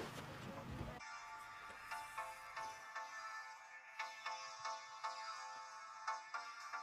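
A mobile phone ringtone plays in a room, a repeating melodic ring that keeps going for several seconds at moderate volume, with brief voices in the background.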